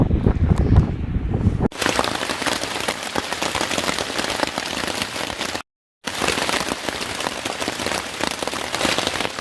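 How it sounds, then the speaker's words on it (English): Steady rain pours down at a stream-side campsite on the Appalachian Trail near Mount Cube, New Hampshire, a dense close hiss that follows a quieter opening moment and stops briefly midway. "It's raining out"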